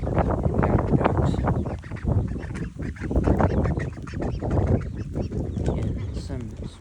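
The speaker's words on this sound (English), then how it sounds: "We got ducks" Several ducks quack and honk in an overlapping, busy chorus nearby, with a voice speaking among them.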